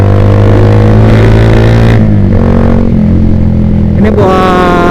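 A Yamaha Vixion motorcycle fitted with a Proliner TR1 R exhaust revs loudly up close, the engine note rising and falling through several throttle blips with short dips between them.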